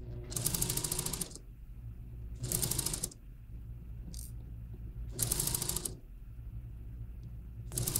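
A sewing machine stitches around a shirt cuff in quick bursts of mechanical whirring, three or four runs separated by pauses, close and clear with no talking.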